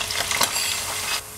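Chopped onions fry steadily in a pan of hot vegetable oil, giving a continuous close hiss and sizzle with a brief stirring scrape before the sound eases near the end.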